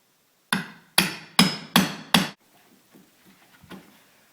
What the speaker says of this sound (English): I'm going to square them up with a scrap piece of wrought iron baluster that I cut to size